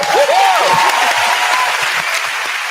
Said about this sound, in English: she gets a round of applause for that.